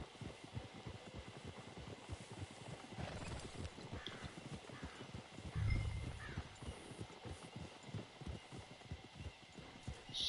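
Horse hooves clip-clop steadily through Red Dead Redemption 2, close and continuous, with a brief snort or whinny around the middle and faint game ambience behind.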